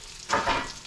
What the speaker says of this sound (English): And you can hear the frying going on right now.